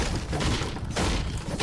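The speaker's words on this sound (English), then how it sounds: "I hear some more gunfire, bro." Rapid gunfire and booming blasts in a video game, a dense, loud and continuous barrage of shots and explosions with no voices over it.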